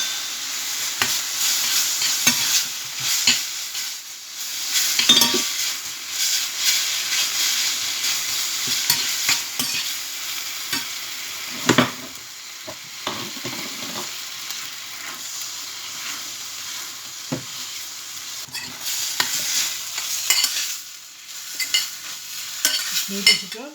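Noodles stirred and fried in a hot pan with sticky marinated pork and sesame oil, giving a continuous close sizzle broken by irregular scraping and tossing strokes, with no voices.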